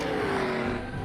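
A Lexus LFA accelerating hard in a standing-start drag race against a Lexus LC500, a brief, distant high-pitched engine wail climbing in pitch.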